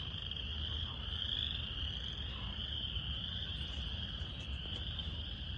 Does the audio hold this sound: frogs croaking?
yes